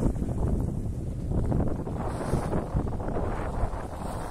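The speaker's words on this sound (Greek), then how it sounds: "Έχει περισσότερο αέρα τώρα εδώ και πάει πιο εύκολα." Strong wind rushes over a sailboat under way, a steady, loud buffeting roar with low rumbling gusts and no talking.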